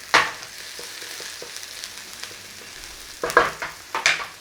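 Garlic and ginger fry in a little oil in a pan, a soft, steady sizzle with a few sharp scraping stirs near the start and a cluster of louder clattering stirs toward the end.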